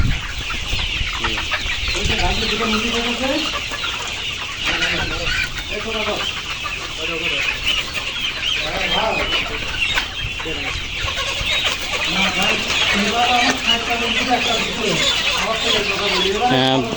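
Layer hens at a poultry farm cluck continuously in a dense, close chorus of overlapping calls, with a voice talking now and then beneath the flock.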